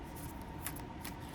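A Soul Cards oracle deck is shuffled by hand, giving soft, quiet papery riffles and rasping slides close by.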